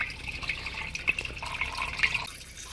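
Water trickles and drips through a drain inspection shaft, a faint, uneven run of small splashes and gurgles with a few sharper drops, heard close and alone.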